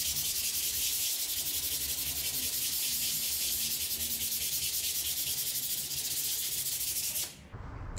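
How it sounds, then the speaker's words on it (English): Sandpaper rubbing over a drywall patch around a recessed light opening, a loud continuous rapid back-and-forth scratching that runs steadily and close, then stops abruptly near the end. "So I'm gonna sand it a teeny bit more"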